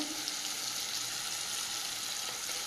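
Masala spice paste fries and is stirred in a pan, a steady soft sizzle with faint scraping, alone with no talk.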